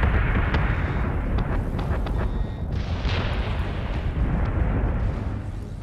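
Space battle explosions in the Battlestar Galactica Deadlock video game, a continuous loud rumbling barrage of booms and bursts with sharp cracks scattered throughout, heard without talk.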